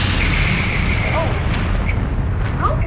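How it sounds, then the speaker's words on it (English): Explosions boom in the video game Metroid: Other M, a loud sustained rumbling blast with crackling debris running through the whole moment, a short tonal whine layered on top. "How many explosions are in this game?"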